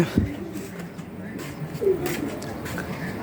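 Pigeons cooing in a loft, a few soft low coos rising over a murmur of shuffling and faint background noise, close by and moderately loud.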